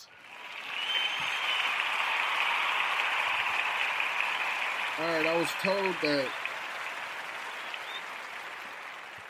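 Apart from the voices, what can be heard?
audience clapping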